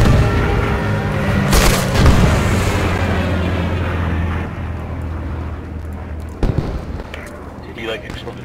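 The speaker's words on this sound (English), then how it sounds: "Take cover, Stuka coming in. Right on top of us." Stuka dive-bomber attack in the Post Scriptum war game, heavy bomb blasts booming nearby with a long rumbling roar that fades, then a further sharp explosion, with voices over the din.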